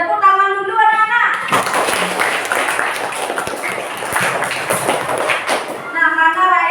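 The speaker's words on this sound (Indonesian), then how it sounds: "Tepuk tangan dulu anak-anak." Children in a classroom clapping their hands together, a dense burst of applause lasting several seconds, with a teacher's voice heard before and after it.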